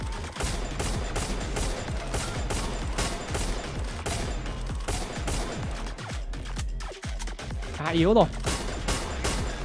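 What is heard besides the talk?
gunfire in the video game Free Fire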